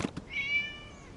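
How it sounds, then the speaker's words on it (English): A cat meows once in a video game, a clear drawn-out mid-pitched meow after a couple of short soft knocks, fairly close in a quiet scene. "It was just a cat."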